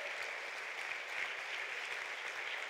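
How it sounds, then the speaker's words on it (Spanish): Steady applause from an audience at the Rapa Nui Pacific Leaders Summit, a dense even patter of many hands clapping throughout at moderate distance, with no voices over it. "Un aplauso para ellos muy grande."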